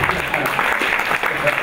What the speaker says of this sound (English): the audience erupted in applause. Not different than that.